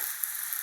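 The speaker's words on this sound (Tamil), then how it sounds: "இப்போ நம்ம இஞ்சி பூண்டு போட்டுடலாங்க." Ginger and garlic go into onions frying in a pan, giving a brief, soft, steady sizzle with no talking.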